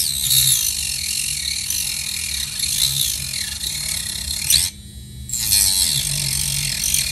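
A cordless Dremel-style rotary tool cutting into a model roof makes a close, continuous high-pitched buzzing whine with a gritty rattle. The whine dips briefly as the bit eases off, then returns at full speed.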